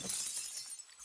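Glass shattering in the video game 7 Days To Die, a short bright crash with a burst of high debris that thins out over about a second, loud and alone with no talk.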